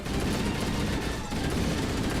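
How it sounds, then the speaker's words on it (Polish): Weapon gunfire in Halo: The Master Chief Collection, loud, dense bursts of shots with one brief dip near the middle before firing resumes, no talking. "zauważycie, że dźwięk broni jest po prostu super"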